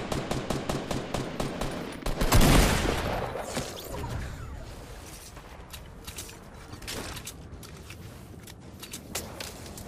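Rapid gunfire from Fortnite Battle Royale rattles in a steady burst at the start, then a loud blast, followed by scattered shots, mechanical creaks and in-game footsteps at moderate distance.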